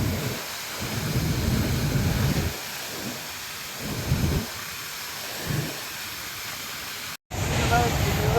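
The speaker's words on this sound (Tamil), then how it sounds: "சரியான சாரல்." Heavy mist and spray blowing off the Hogenakkal waterfall during a coracle boat ride, a broad roaring hiss swelling and easing in waves, with a sudden brief dropout near the end.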